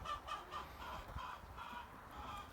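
Minorca chickens cluck softly in short, repeated calls a little way off, with a quiet background and no talking.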